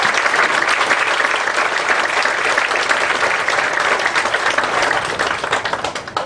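A graduation ceremony audience claps and applauds for parents, grandparents and teachers, a dense, loud and sustained wash of clapping that holds steady before easing slightly at the end.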